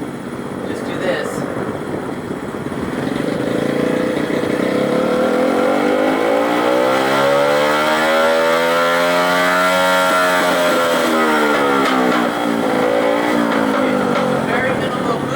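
A motorcycle engine at a track clinic revs up and back down under the throttle, a loud, rising and falling harmonic sweep that peaks mid-clip and holds steady, with a person talking over it.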